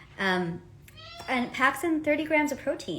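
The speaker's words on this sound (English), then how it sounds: "you can hear my cat meowing in the background" A house cat meows several times in the background while someone speaks over it in a kitchen recipe demonstration.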